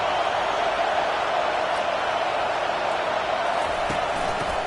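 Loud stadium crowd at a USC vs UCF college football game roars in a steady, full-throated wall of cheering that holds without letup, with scattered whoops and shouts rising from the mass of voices.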